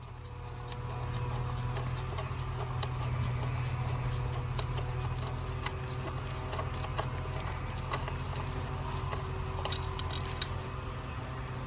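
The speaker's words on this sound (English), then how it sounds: "there's a little 10mm bolt down in there that has to come out" A small 10mm bolt is worked out of the ignition coil clip on a 2012 Chevy Traverse: a string of light metallic ticks and clicks over a steady low background hum.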